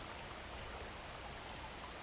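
A stream flows steadily outdoors with a soft, even broadband wash of running water, quiet and continuous with no voices.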